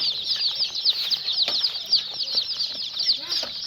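Chicks flutter and cluck in a crowded group, a dense continuous chorus of high peeping with quick wing-flapping bursts, close and fairly loud throughout.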